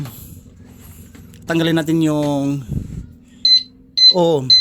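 An alarm beeps in short, high, evenly spaced tones near the end, alongside loud nearby talking.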